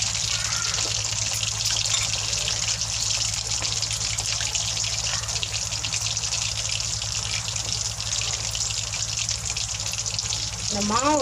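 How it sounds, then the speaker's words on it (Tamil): Batter-coated cauliflower deep fries in hot oil with a continuous, even bubbling sizzle that stays close and steady throughout, with a brief vocal sound near the end. "அப்படியே டிப் பண்ணி எண்ணெயில் போடலாம்."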